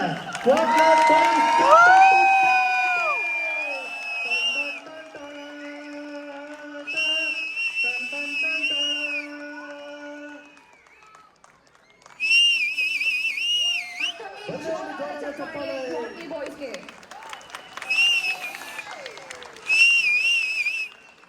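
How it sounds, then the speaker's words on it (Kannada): At a Kannada association comedy skit event in Austin, the audience lets out shrill whistles and claps in repeated bursts, with voices and crowd noise between them. "ಶಿಳ್ಳೆ ಚಪ್ಪಾಳೆ ಜೋರಾಗಿದ್ರೆ"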